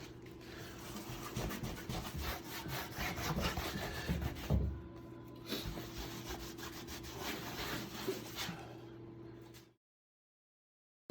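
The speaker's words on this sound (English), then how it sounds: "I'll rub this on, and you can see what happens." Wax being rubbed onto a fresco by hand gives a steady scraping, rasping friction in repeated strokes, fairly close and moderately quiet, before stopping abruptly into silence near the end.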